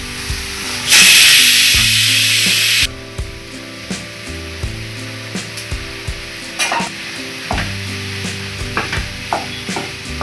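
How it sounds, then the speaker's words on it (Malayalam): Cooked cassava being stirred into spices in a hot pan: a loud burst of sizzle early on, then repeated scraping and knocking of the spoon against the pan in an irregular rhythm, close and clear. "ഇനി നന്നായിട്ട് ഇളക്കി യോജിപ്പിക്കാം"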